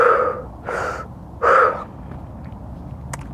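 A person imitates a shallow upper-chest breath with three quick, loud, breathy gasping inhales close up, spaced about half a second apart, followed by quiet.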